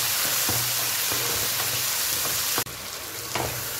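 Onions and tomatoes fry in a pan with a steady, close sizzle and occasional stirring clatter, no voices.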